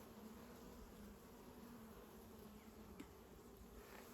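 Honeybees buzz steadily and quietly as hive frames are inspected at an apiary, a dense continuous hum of the colony close by with no talking.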